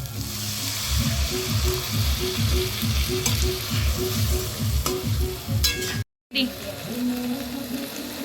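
Spice paste thinned with water fries in a pan, a loud continuous sizzle with rhythmic stirring scrapes, and a voice talks over it before a brief cut.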